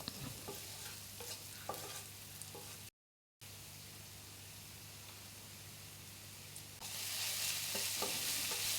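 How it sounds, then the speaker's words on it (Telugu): Onions fry with turmeric and ginger garlic paste in a constant hissing sizzle broken by scraping stirs. The sound drops out briefly, then returns with a brighter, louder hiss near the end. "ఉల్లిపాయలు కొంచెం వేగాక అందులో కొంచెం పసుపు ఇంకా అల్లం వెల్లుల్లి పేస్ట్ కూడా వేసి పచ్చివాసన పోయేదాకా ఫ్రై చేసుకోండి"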